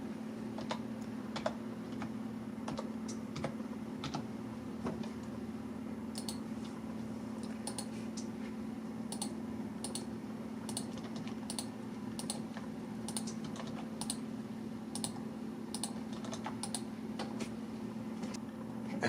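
Someone types a password on a computer keyboard to set up a local user account, a quiet run of irregular key clicks with brief pauses over a low steady hum, with no talk.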